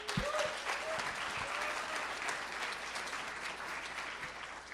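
Audience applause at a hackathon opening ceremony fills the hall, a dense, steady clapping from a large crowd that holds at an even level throughout.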